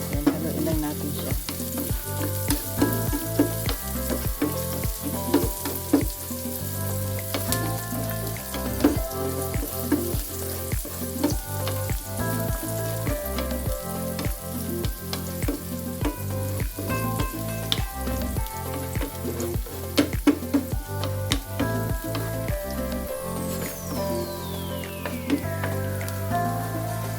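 Garlic buffalo wings fry with pepper in a pan, a loud, dense, steady sizzle crackling like rain, with regular spatula stirs and scrapes throughout; no talking.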